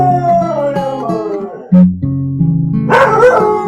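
A dog gives a few yips and a short bark-like whimper near the microphone, mixed with a voice that sounds sung or tonal. The sounds are loud and close.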